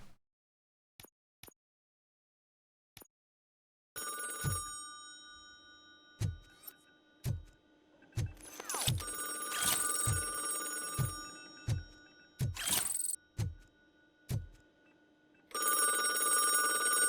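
An old-style telephone bell rings in the RoboCop: Rogue City video game, after a few faint ticks, a loud, bright, repeated metallic ringing in a regular pulse with heavy thuds between bursts, fairly close.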